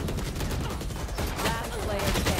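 Rapid gunfire sprays through smoke during a tense Valorant round, bursts of shots running continuously over busy game noise, with voices talking over it.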